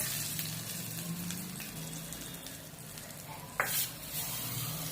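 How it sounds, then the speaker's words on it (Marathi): Hot chili tempering poured over a chutney, giving a steady crackling sizzle throughout with a brief louder splash partway through, close and alone without talk. "ही फोडणी आपण त्या चटणीवर टाकूया"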